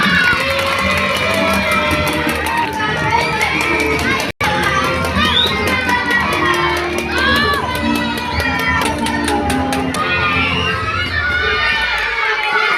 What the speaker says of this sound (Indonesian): Beri tepuk tangan untuk kelas 2.